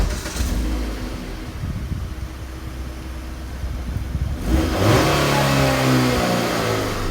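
A 2014 Jeep Patriot pulls away and accelerates, its mid-pitched engine revving up steadily and loudly, then shifting and rising again in a second pull.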